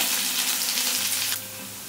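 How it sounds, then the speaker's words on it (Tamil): Oil sizzles and hisses steadily as green chillies fry in a hot pan, then the crackle quiets abruptly toward the end. "பச்சை மிளகாய் இந்த மாதிரி நல்லா ரோஸ்ட் ஆகிட்டு இருக்கும்போதே"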